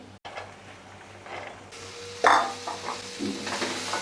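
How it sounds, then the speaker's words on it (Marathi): Chopped vegetables sautéed with spices in a pan for a Maharashtrian Gudi Padwa thali, with a soft sizzle under scraping and clinking of a spoon against the pan, one louder scrape midway, and no talk. "आणि ही भाजी आहे ना ती परतून घ्यायची आपल्याला"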